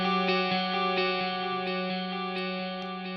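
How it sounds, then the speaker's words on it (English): A guitar intro riff with a short delay effect, steady sustained tones with repeating rhythmic echoes, distorted and chorused, heard alone with no talking. "this one is the little delay hit on the intro riff"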